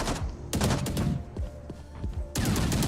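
Rapid gunfire in a tactical shooter deathmatch, several loud bursts of automatic fire with brief gaps between them, close and dominant throughout.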